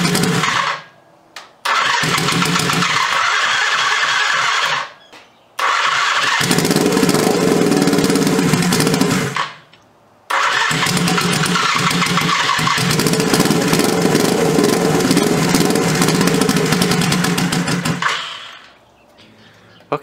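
A turbocharged GS400 scrambler motorcycle engine, first start after new piston rings, cranks and catches several times, each start followed by loud, sustained running and revving, cutting out briefly between attempts.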